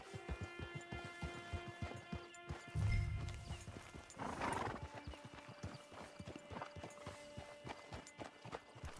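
Horse hooves clip-clop in a steady rhythmic patter in Red Dead Redemption 2, with a loud whinnying neigh partway through, all over a soft sustained musical drone and ambience.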